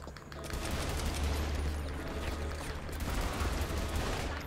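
Sniper and other gunfire in the video game Saints Row The Third, a dense stretch of shots and booming low rumble filling the whole moment at steady loudness, with no talk.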